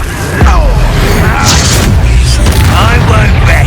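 A spell blast booms at about half a second, then a roaring fire-and-effects rumble runs on under a character's voice in the Hogwarts Legacy video game, with further crackling bursts later.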